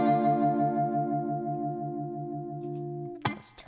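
Guitar run through an effects unit, with an expression pedal bringing in a lower octave: a sustained, pulsing chorused tone fading over about three seconds before a short clunk of handling.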